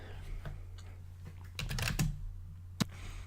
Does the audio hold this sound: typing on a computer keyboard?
yes